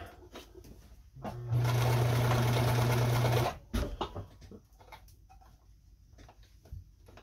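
A Kenmore 158.17740 sewing machine stitches a decorative pattern in one loud, steady whirring run of about two seconds, with quiet handling clicks before and after.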